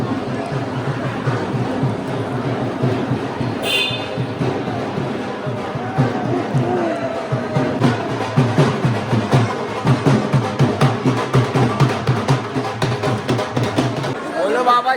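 Pilgrims throng the road to the Khatu Shyam temple, a dense crowd whose chatter and chanting voices hold steady throughout, with a busy, rhythmic swell of voices growing stronger toward the end.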